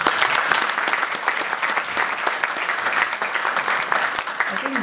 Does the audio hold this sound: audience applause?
yes